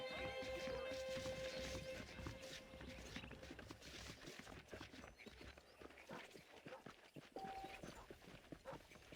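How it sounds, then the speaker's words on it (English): Saddled horses in the Red Dead Redemption video game, with clip-clop hooves and snorts amid busy game ambience, moderately loud over continuous background sound. "The horses are saddled up over here."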